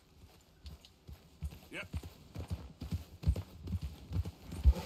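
Horse hooves clip-clopping in a video game, a run of soft rhythmic thuds that grows steadier and slightly louder toward the end, with a brief spoken word over a low background hum.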